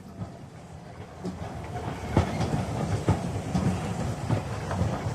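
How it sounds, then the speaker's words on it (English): Rail rumble of the imperial train of Tsar Nicholas II running on tracks near Pskov, a steady low rolling roar with rhythmic clicking wheel knocks recurring every second or so, close and continuous with no voices. "the imperial train slipped into a siding outside Pskov"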